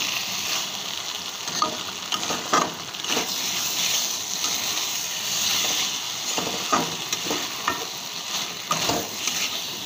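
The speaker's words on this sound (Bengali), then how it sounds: "এবার ভালো করে আলুটা কষাবো মশলার সাথে।" Fried potatoes with spices are stir-fried in a pan, a steady close sizzle broken by repeated scraping strokes of a spatula, with no talking.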